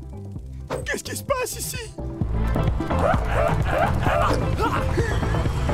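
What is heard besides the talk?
cartoon dog barking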